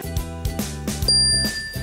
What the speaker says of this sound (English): You're supposed to ding the bell.